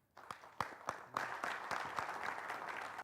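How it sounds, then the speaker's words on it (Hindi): Audience applause welcoming a poet on an Urdu television poetry gathering, a few sharp individual claps at first, quickly building into steady, moderately close clapping from the crowd. "आप सभी से दरख्वास्त है कि तालियों के साथ जनाब वामिक साहब का इस्तकबाल करें।"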